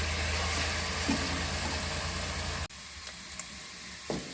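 A steady, loud sizzling hiss of spinach roots frying in a hot pan fills the first half, then drops abruptly to a quieter sizzle with a few faint clicks.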